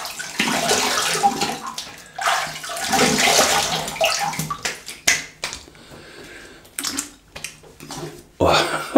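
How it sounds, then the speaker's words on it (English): Running water splashing from a tap as a face is rinsed after a wet shave with a Rockwell 6S razor, close gurgling and splashing in bursts with pauses and sharp drips, someone speaking intermittently. "Let's have a little rinse."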